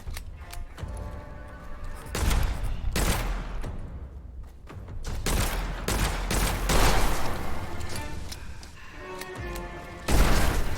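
Pistol gunfire in the dark fantasy roguelite shooter Witchfire rings out as a rapid string of loud, close shots with brief gaps, layered over clattering impacts and combat noise.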